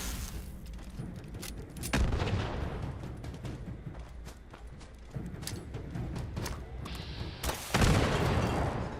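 Grenade explosions and gunfire at low level in Fallout 76: scattered sharp shots and booms across the stretch, a heavier blast near the end, moderately loud with little talk.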